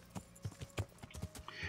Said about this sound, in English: come, Pebbles, my teleporting horse